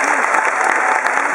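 A concert crowd claps loudly and continuously, a dense, even wash of applause close by with no gaps.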